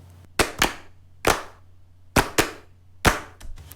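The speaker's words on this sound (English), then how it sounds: "Or get some people in and just record a couple claps." Hand claps recorded for a music track land loosely timed, seven or so sharp, close slaps arriving in uneven pairs and singles with short gaps between them.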